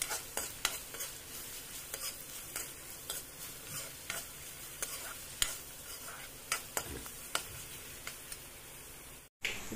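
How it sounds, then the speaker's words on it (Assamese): Chopped onions sizzle steadily in a pan, with regular light scrapes and clicks of a spoon stirring them through, close and clear with no talking. "পিঁয়াজখিনি অলপমান ভাজি ল'ম।"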